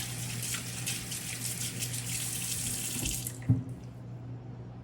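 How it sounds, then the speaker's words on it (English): Tap water runs steadily into a kitchen sink during hand washing, a continuous broadband gush that stops abruptly near the end with a brief clunk as the faucet shuts off. "Okay, wash my hands."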